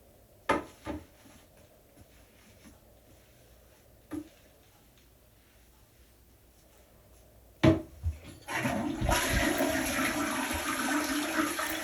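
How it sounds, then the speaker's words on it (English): A guest bathroom toilet flushes with a sharp handle click and a loud, sustained rush of water filling the bowl after several seconds of near silence broken by a few faint clicks. "Doesn't hurt to flush several times, so always flush"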